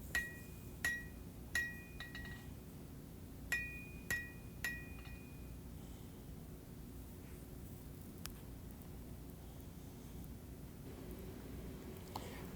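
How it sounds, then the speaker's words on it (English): Hammer blows on a steel knife handle drawn out for length over the corner of an anvil while hand forging a hunter knife: a handful of sharp ringing strikes in the first five seconds, then sparse taps over low steady shop noise. "using the corner of the anvil, I'm drawing it out for length"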